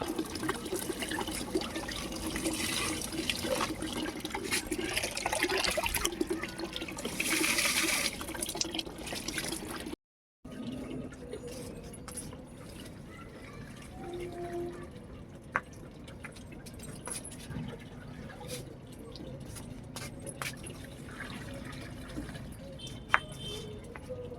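A dragon fruit plant being watered outdoors, with water splashing and trickling onto it steadily at close range; a brief break midway, then softer dripping and trickling, with occasional voices in the background.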